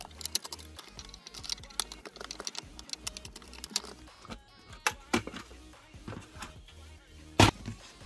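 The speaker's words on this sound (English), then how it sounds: "There are six more Phillips screws attaching the circuit board to the bottom case through the heatsink that need to be removed." Small Phillips screws are loosened and pulled from a Nintendo GameCube circuit board, giving quick irregular clicks, taps and scrapes of a screwdriver and metal parts close up, with one sharp knock near the end.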